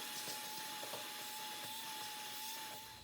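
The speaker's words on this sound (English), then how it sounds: "Take the vacuum, we're gonna clean off some more of this." A vacuum cleaner runs steadily around the fuel tank area of a Toyota Echo during a gas tank replacement, a continuous close whine with a sustained tone and light bumps of the nozzle, no talking.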